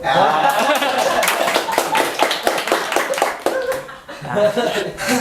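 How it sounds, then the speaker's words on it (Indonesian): Stand-up comedy audience clapping and laughing for a performer at a local comedy show, loud close claps in a lively burst, with chuckles and voices mixed in. "tepuk tangan atuh kanggo Pak Asep"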